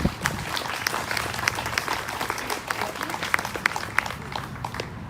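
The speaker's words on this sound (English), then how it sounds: "A round of applause for Cornell." Crowd applause for Cornell Ellis, co-founder and executive director of BLOC, Brothers Liberating Our Community, at a morning Hope Walk event, with dense steady clapping throughout and occasional sharper claps standing out, fairly close.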